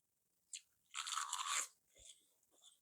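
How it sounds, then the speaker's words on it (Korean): Roasted seaweed sheets brushed with perilla oil are bitten and chewed plain, producing a few crisp, close crunches, one sharp bite followed by a dense burst of crackling, quiet overall with no speech. "김만 씹어 먹어도 아주 맛있습니다"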